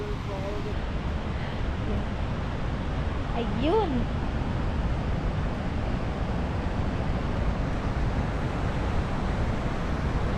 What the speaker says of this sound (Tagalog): Naririnig na yung tubig.